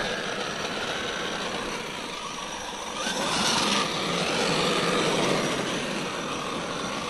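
A Traxxas Maxx V2 RC truck with a new aluminium full-support motor mount: a steady electric motor whine and buzzing drivetrain that swells louder midway, then settles back at a constant level.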